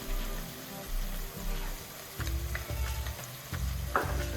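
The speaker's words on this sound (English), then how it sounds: "And let that fry for a few minutes." Masala and tomato paste fry in a pot for crab curry, a steady sizzling hiss over low rhythmic bubbling or stirring thumps that come in short repeated bursts.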